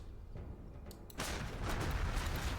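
A small cannon fires in the Rise of Legends strategy game, one sudden booming blast after a quiet stretch, followed by sustained rumbling noise at a moderate, somewhat distant level.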